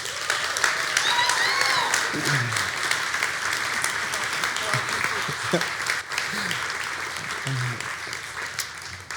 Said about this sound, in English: can we just encourage these parents right now by giving them a round of applause?